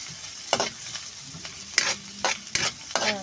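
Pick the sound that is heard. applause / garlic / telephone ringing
garlic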